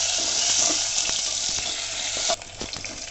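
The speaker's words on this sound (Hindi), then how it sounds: "प्याज को हल्का सा सुनहरा करेंगे मीडियम फ्लेम पर" Large chunks of chopped onion sizzle in hot oil over a medium flame, a loud, steady hiss that drops sharply in level partway through, with faint scrapes of stirring.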